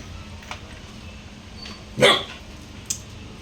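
A single dog bark rings out near and fairly loud around the middle, with a couple of faint yips elsewhere over quiet room noise, at home beside a newly unboxed cat carrier.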